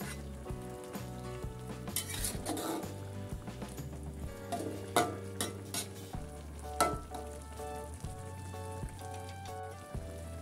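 Cassava leaf curry simmers in a pot on a stove, a steady bubbling and sizzling texture with occasional stirring clatter, close and continuous without talk.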